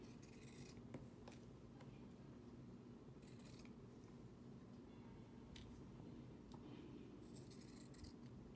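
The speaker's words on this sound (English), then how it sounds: "I like using these scissors" Steady snipping of scissors through paper, several crisp cuts spaced irregularly over a low background hum, close and fairly quiet.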